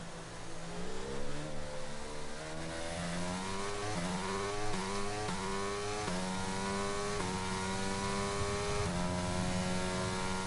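Formula 1 car engine in the F1 22 video game, screaming loud and continuous as it climbs through gears in a rising, stepped whine while racing out of a corner.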